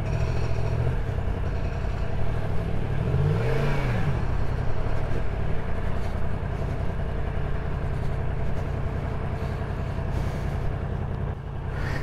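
Yamaha MT-10 naked motorcycle engine and induction roar, riding in traffic: a steady, loud, continuous drone with a brief rising-and-falling rev swell near the start, sustained throughout.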